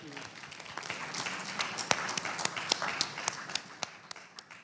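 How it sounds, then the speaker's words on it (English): Audience applause for panelists at a summit fireside chat, a steady wash of many hands with sharp individual claps standing out close by. "Let's give them another round of applause"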